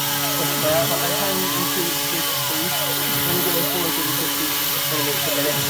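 A DIY CNC machine mills aluminium parts with a loud, continuous whine whose pitch sweeps up and down as the cutter moves through the metal, over a steady motor drone.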